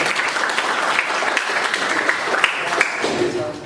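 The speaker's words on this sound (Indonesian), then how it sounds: "Iya, tepuk tangan nih." A room full of people applauds continuously, a dense patter of clapping that holds steady for several seconds.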